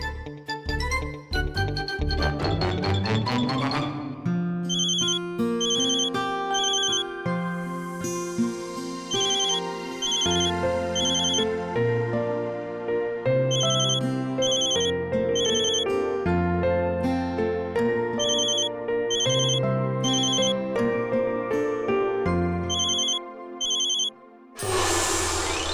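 A phone ringtone plays a bright, repeating synthesized melody over sustained tones, loud and alone with no one speaking.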